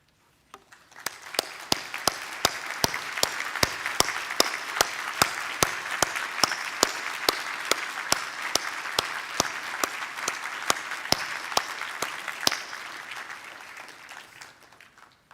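A large audience at the ISSCC 2023 conference opening applauds committee members, a sustained wash of clapping that swells in and fades out, with a strong, steady beat of rhythmic claps running through it.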